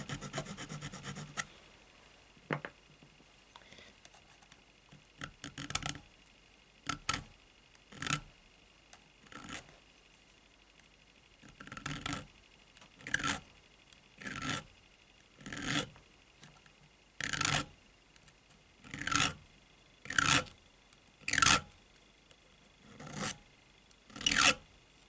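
Filing notches into a metal disc from a disc detainer lock, a series of short rasping strokes in irregular bursts that grow louder and more regular toward the end, close up with no talking.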